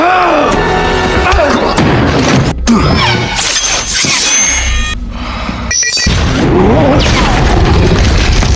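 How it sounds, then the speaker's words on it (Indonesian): Loud cinematic bomb explosion from the Spider-Man 3 film, a series of heavy booms, crashes and debris impacts with an orchestral score underneath, continuous and dense throughout. "namun Peter mampu mengembalikan bom tersebut ke arah Harry hingga meledak mengenai muka Harry"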